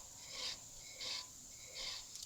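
Disc brake rotor rubbing against its caliper as the wheel is spun by hand, heard as three soft, quiet scraping swishes in an even rhythm, each about a third of a second, with faint noise between.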